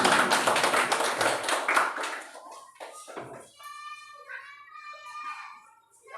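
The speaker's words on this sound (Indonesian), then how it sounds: "tepuk tangan untuk kita semuanya" A group gathered for a positive-culture dissemination session in Aceh Singkil claps in a dense burst of applause that quickly thins out into scattered claps and background sounds.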